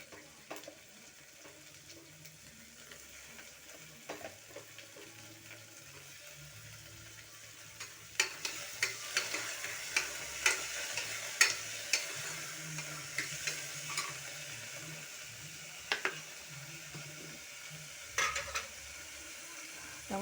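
Tomato and onion frying in a pan for benda kaya pulusu, a low steady sizzle that grows busier partway through with scraping stirs and clinks.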